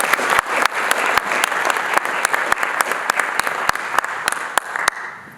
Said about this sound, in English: give a strong round of support and applause for Senator Risch